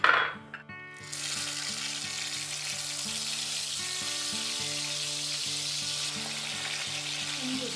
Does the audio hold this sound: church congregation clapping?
no